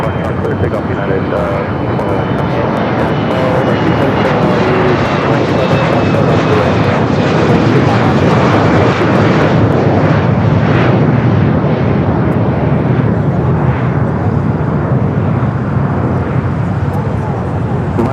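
A jet airliner taking off from runway 25 right at Los Angeles International Airport gives a loud, continuous roar that holds steady throughout, a broad engine rumble with a sustained high whine on top.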